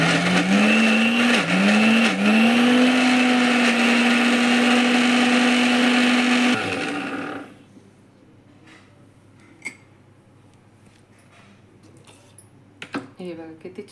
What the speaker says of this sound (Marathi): मिक्सरमध्ये फिरवूया.